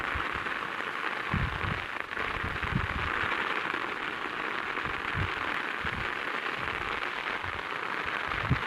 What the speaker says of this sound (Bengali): দেখো কীরকম বৃষ্টি হচ্ছে।